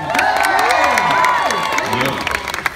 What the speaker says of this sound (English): how about a big round of applause for everyone's favorite melody makers